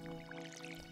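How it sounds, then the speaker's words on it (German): Water from a watering can patters and trickles onto crops in the Stardew Valley video game, as a faint, brief splashing over a steady background music drone. "So, dann gießen wir mal."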